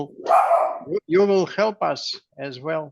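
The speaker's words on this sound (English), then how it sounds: "That's my dog, sorry." A pet dog barks repeatedly at close range, a quick run of sharp barks and yips mixed in with someone talking.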